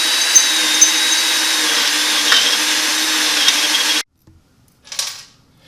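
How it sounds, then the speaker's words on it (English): A power drill reams metric bolt holes out to 5/16 inch while an air ride suspension is being installed, running steadily and loud for about four seconds before stopping abruptly, followed by a brief whirring burst. "we're gonna drill these out to a 5/16 hole"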